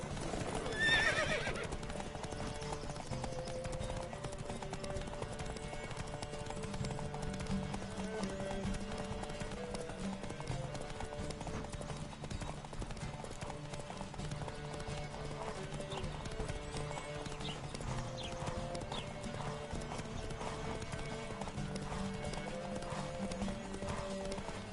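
Horse hooves clip-clop in a steady galloping rhythm, with a whinny near the start, over continuous game music during a horse race in The Witcher 3.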